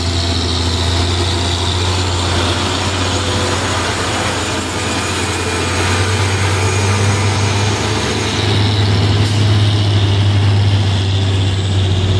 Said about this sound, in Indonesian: ini truk Fuso juga 6x2